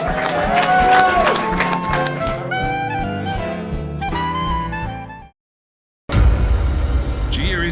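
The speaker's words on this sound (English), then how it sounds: "Everybody, give a round of applause for Manny, the movie guy." An audience breaks into applause for a guest, a dense burst of clapping that arrives after a short silence, following several seconds of loud music.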